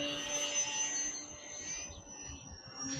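A Skynetic Sbach 342 RC airplane in flight, its electric motor and slow-flying propeller giving a thin, steady whine that stays faint and distant throughout.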